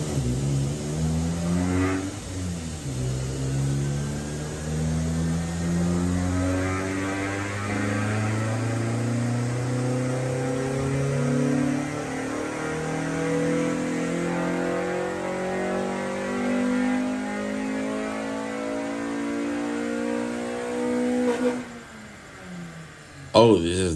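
A Honda D15b SOHC 1500 bracket and grid race car engine revs up on a dyno, a loud steady climb in pitch held for about twenty seconds before cutting off abruptly, with a faint background hum.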